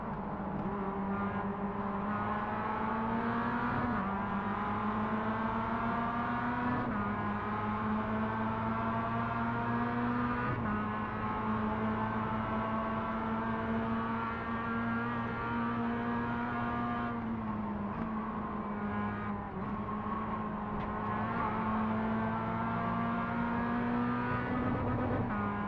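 A car engine held at high revs near its redline, a steady loud droning whine with slight pitch dips and rises across a long stretch, with no talking over it.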